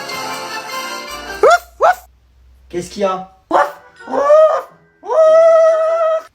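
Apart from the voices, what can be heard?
dog barking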